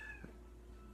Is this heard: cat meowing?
yes